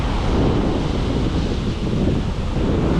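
Storm wind and rough surf at sea as Hurricane Ernesto passes the Northeast coast during a fluke-fishing trip: a loud, steady, unbroken roar of gusting wind and crashing waves, with no speech.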